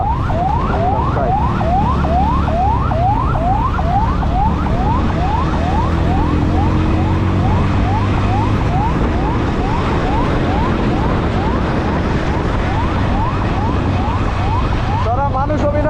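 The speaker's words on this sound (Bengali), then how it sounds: "অ্যাম্বুলেন্স" An ambulance siren wails close by on a road near Savar Cantonment. Fast rising whoops repeat steadily over loud engine and traffic rumble, and the siren stays prominent the whole time.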